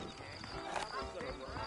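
Clip-clopping horse hooves in Red Dead Redemption, a steady trot of muffled hoofbeats sitting under continuous speech and game ambience.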